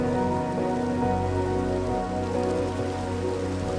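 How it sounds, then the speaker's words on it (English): Steady rain falls in Minecraft, a dense continuous patter of drops on surfaces that stays even and fairly loud throughout, with no voices. "And enjoy the rain while I'm covered by the canopy."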